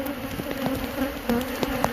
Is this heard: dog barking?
no